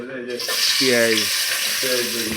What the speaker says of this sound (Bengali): যে পরিমাণ মতো পেঁয়াজ বাগার দিয়ে দিলাম।